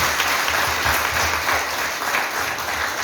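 Audience at a Women's Day gathering in Camp-Perrin applauding steadily, a dense wash of clapping hands that holds evenly for the whole stretch without voices on top.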